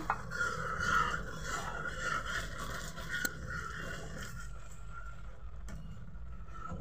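A spoon scrapes and rubs around a pan as milk thickens into kheer over a low gas flame, soft repeated strokes close by that fade to a quieter simmer toward the end.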